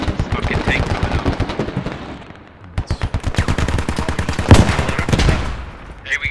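Rapid bursts of automatic gunfire and single shots in the military shooter game Squad, loud and close, with dense repeated cracks, a brief lull, then heavier firing and a booming blast.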